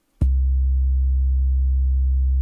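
A steady sine tone pushed through the Sound Toys Decapitator saturation plugin, buzzing with added harmonics; it starts abruptly and holds loud and unchanging, with no talking.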